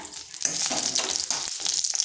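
Whole cumin seeds hit hot oil in a kadai and sizzle at once, a close, bright crackling hiss that carries on steadily with small pops for about two seconds.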